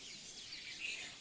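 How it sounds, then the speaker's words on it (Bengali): Faint bird chirps twittering softly in the background, light and scattered over a quiet outdoor ambience. "আশেপাশে পরিবেশের পাখির ডাক শুনতে পাচ্ছ"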